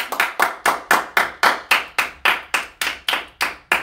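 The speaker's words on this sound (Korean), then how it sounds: "박수!" About fifteen sharp, evenly spaced hand claps at a quick steady rhythm, close and clear, with no talking over them.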